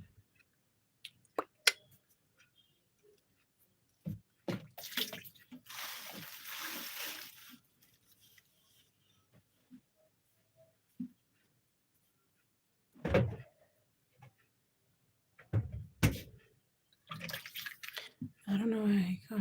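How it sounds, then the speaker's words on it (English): A pan being washed under running water at a home kitchen sink: splashes and bursts of running water alongside clunks and knocks of the pan, intermittent and close, with someone talking between the sounds. "let me first wash this pan and then I could wash my fish."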